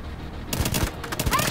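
Minigun in The Division 2 opening up after a short quiet stretch, a fast dense burst of rapid shots, loud and close.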